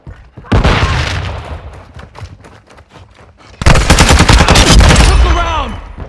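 Heavy gunfire in Call of Duty: Modern Warfare II: loud, rapid automatic bursts and booming shots, easing off briefly and then returning in a dense, close barrage during a firefight.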